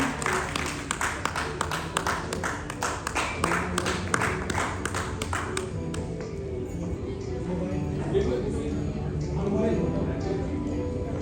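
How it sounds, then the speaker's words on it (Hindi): Audience clapping at an awards ceremony honouring excellence, a dense burst of applause for the first several seconds that fades out, with crowd murmur and a voice continuing underneath. "Can we have a big round of applause, ladies and gentlemen?"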